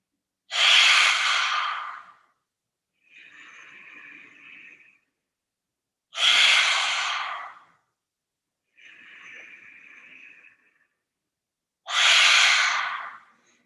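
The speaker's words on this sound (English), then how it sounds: "coming into our lion's breath" Three forceful, breathy lion's-breath exhales during a yoga flow, each loud and sustained for about two seconds, separated by quieter, softer inhales in an otherwise silent room.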